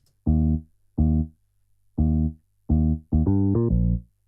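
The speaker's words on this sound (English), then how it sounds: "Today we're using the Solid Soul electric bass" Deep electric bass notes from the Logic Pro X Solid Soul preset play a simple line, several separate plucked tones then a quicker run of notes, clean and alone.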